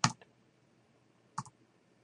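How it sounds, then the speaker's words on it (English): Two isolated, crisp key presses on a computer keyboard, spaced over a second apart in a quiet room, each a sharp double click. "you can hit H on the keyboard"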